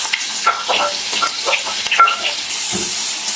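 Sliced onions drop into hot oil with whole spices for Punjabi dhaba-style rajma, sizzling and crackling close up while a spoon stirs and scrapes the pan in irregular strokes.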